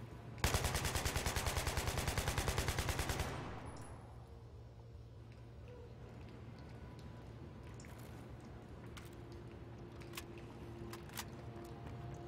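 A Type 88 LMG in Battlefield 3 fires one loud, rapid sustained burst of evenly spaced shots for about three seconds, then cuts off, leaving a low hum with faint scattered clicks and distant noises.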